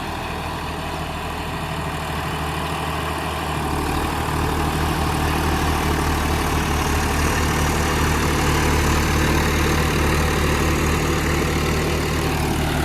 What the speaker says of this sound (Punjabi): ਬਿਲਕੁਲ ਸੈੱਟ ਚੱਲ ਰਿਹਾ ਹੈ ਟਰੈਕਟਰ ਨੂੰ ਕੋਈ ਪਰਵਾਹ ਨਹੀਂ ਹੈਗੀ